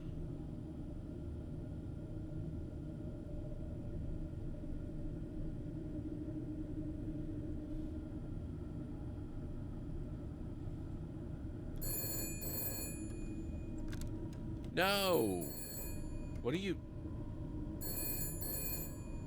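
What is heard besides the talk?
telephone ringing in the video game Shadows of Doubt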